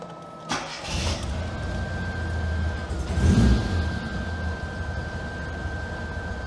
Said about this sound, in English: So now let's try this again by starting the car.